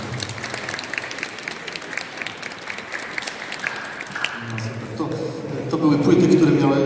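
Applause from an audience at a Lenten retreat in Grudziądz, honouring a group of girls after a performance: a steady wash of clapping throughout, swelling louder near the end, with voices over it.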